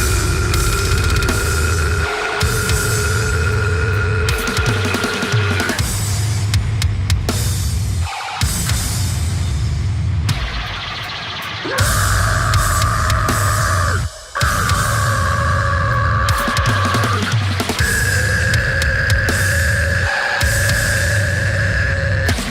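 Heavy metal track: loud, dense distorted guitars and pounding drums play continuously, with sustained droning tones shifting between sections and a few brief drops in the wall of sound.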